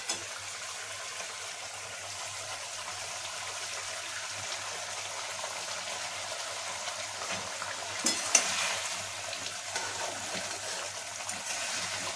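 Fish curry broth in a pan simmers with a soft, continuous low bubbling, faint and steady, with a brief louder stir or splash partway through.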